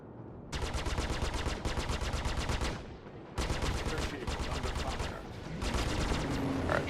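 Rapid automatic weapon fire from a fast Sabre fighter ship in Star Citizen space combat, loud sustained bursts with a brief pause midway, then resuming.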